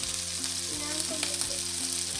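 Meatballs fry in a pan for a bolognese pasta sauce, giving a steady, dense sizzle close up with faint scraping and stirring noises and no talking.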